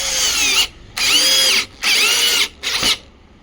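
A power drill drives screws while a speaker is fitted into a home theater build using JBL and Sony speakers, with four close, loud whirring bursts separated by short pauses and no talking.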